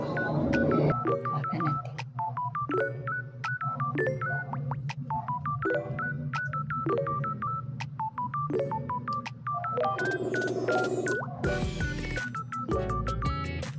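A phone places a video call with a rapid series of rhythmic dialing beeps, then a distinct ringing tone near the end, and a voice speaks briefly.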